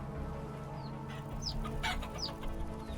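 Chickens cluck in a farm pen in the survival game Vintage Story, with a few short chirpy calls at a moderate distance over a steady low background hum.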